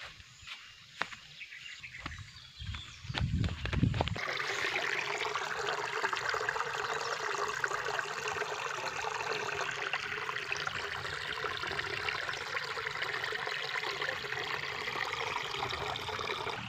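Small rain-fed streams trickle through grassy countryside after rainfall. A few close handling knocks and rustles come first, then a steady, close, continuous rush of flowing water with faint birds or insects behind it.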